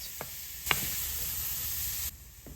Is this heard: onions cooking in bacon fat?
yes